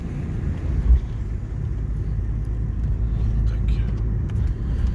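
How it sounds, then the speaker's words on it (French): A 1997 BMW 325 TDS with a worn rear wheel bearing drives along, its steady low road rumble and drone filling the cabin, with a brief thump near the start and quiet speech under the noise. "Elle a le roulement arrière aussi à changer. Ça s'entend quand on roule."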